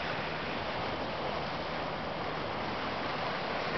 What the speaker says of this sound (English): A little bit of waves, more waves than there was yesterday.